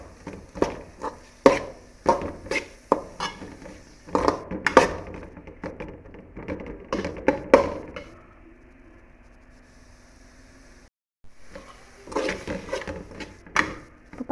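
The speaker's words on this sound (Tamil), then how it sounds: "இந்த பச்சை ஸ்மெல் போகிற வரைக்கும் நல்லா வதக்கி விட்டுக்கோங்க." Ginger garlic paste sizzles and is stirred in a pan while cooking for mutton pepper gravy, with intermittent scraping and knocking clatters of a spoon against the pan, a quieter sizzling stretch, then more stirring.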